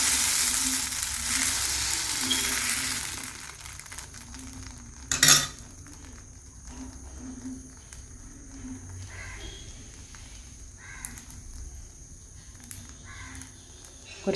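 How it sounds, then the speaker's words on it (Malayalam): Uttapam batter cooks on a hot pan with a loud hissing sizzle at first that fades to a quieter fry, broken by a sharp metallic clink of a utensil partway through. "ഊത്തപ്പം നമുക്കിവിടെ ചുട്ടെടുക്കാം."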